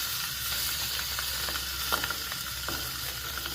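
Sausages sizzle on a flat-top Blackstone griddle in a steady close hiss of frying fat, with a few faint clicks and pops scattered through.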